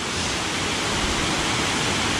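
Kothapalli waterfall near Araku pours in a steady, dense roar of falling water, broadband and unbroken, fairly loud and close with no voices over it.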